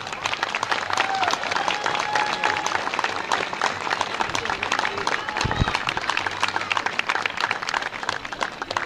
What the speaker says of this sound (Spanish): una celebración y un fuerte aplauso para todos nosotros